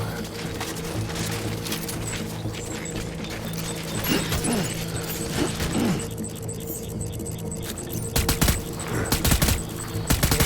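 Incoming gunfire in a video game: scattered sharp shots and bursts over a steady engine-like hum, growing louder and denser toward the end.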